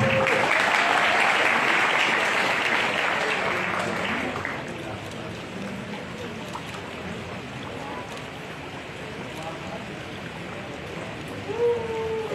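Applause from an audience at an Islamic creative competition event, dense clapping and crowd noise that fades after a few seconds into quieter crowd murmur.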